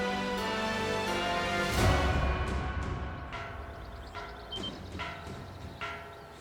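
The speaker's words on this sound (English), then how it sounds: "The warning bell." A warning bell in the Ys X: Nordics game, tolling several times with long ringing decays that overlap, loud and resonant, with no talk over it.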